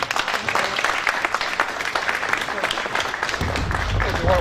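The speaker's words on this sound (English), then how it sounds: "Please clap for him." An audience at a Cameroon royal crowning ceremony claps for the newly crowned son, a dense, steady patter of many hands throughout, fairly loud with some crowd murmur underneath.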